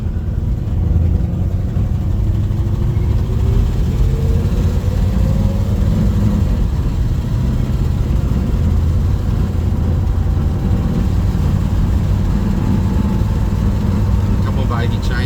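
A Holden HG car engine with a misfire runs loudly and continuously close by, a rough low drone with a slowly rising pitch as it pulls, and a voice speaks over it.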